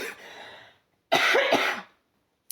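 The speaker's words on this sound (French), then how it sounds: "J'ai besoin de tousser." A single person coughs twice in quick succession, close and fairly loud, after a softer breathy throat sound, with a brief click at the end and no talking.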